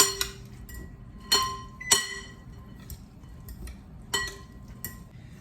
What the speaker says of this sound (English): I like to put on the slaw and give it a toss